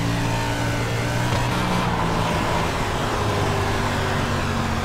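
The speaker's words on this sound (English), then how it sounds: "Can you hear the engine okay?" A race car runs on the track, its engine a loud, steady drone with strong low harmonics and slight pitch shifts as it holds speed, with no voices over it.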